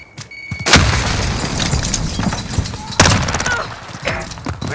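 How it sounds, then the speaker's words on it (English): A grenade blast in a military shooter game lands as a loud boom, followed by ongoing gunfire and a second sharp burst a couple of seconds later, with a voice briefly heard. "Throwing grenade!"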